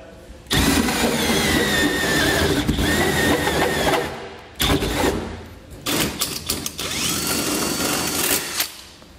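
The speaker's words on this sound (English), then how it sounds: "we're going to use our 4-inch hole saw here to drill it out" A power drill with a 4-inch hole saw grinds loudly through a metal truck bed in several long bursts, pausing briefly between runs, harsh and close.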